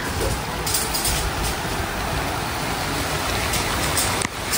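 Rain and strong wind rush in at an open window, a steady, dense roar that holds unbroken and fairly loud throughout, with no voices.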